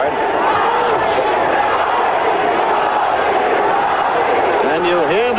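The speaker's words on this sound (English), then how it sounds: "you hear the crowd in unison chanting Ali, Ali" At a Muhammad Ali boxing match against Alfredo Evangelista, a large arena crowd roars and chants in unison, a loud, steady wall of voices with rhythmic swells and a commentator talking over it.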